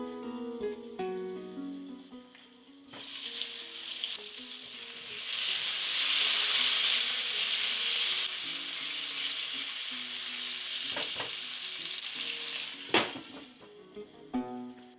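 Potatoes with salt and pepper frying in a lidded pot, a steady sizzle that swells into a louder hiss midway, with a few soft clanks of the lid or pot and no speech.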